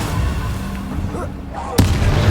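Incendio fire spell cast in the video game Hogwarts Legacy, a whooshing magical burst over rumbling game ambience, ending in a sharp, loud crack-like impact with a roaring tail.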